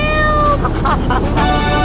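A cat meows in a radio ad in Grand Theft Auto III, a few short bright mewing cries over steady background music and a voice.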